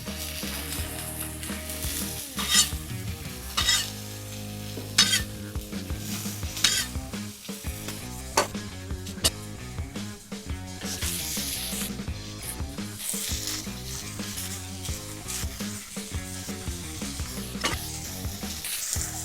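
Smashed burger patties, Aldi and Walmart beef, sizzling loudly on a hot griddle with steady crackling fat, punctuated by sharp metal spatula scrapes and clinks, close and continuous with no talk.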